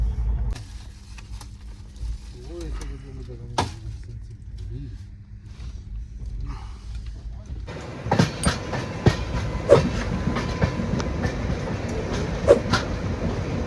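Kanchankanya Express passenger train running on rails, a steady low rumble that swells after a few seconds into louder rattling and clacking of wagons, heard from inside the coach with no talk.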